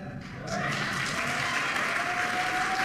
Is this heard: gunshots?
no